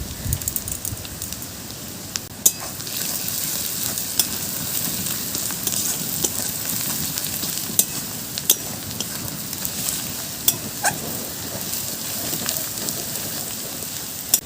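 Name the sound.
spices frying and being stirred in a pan for chicken curry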